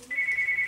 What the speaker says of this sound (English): You keep blowing up my damn phone like you crazy.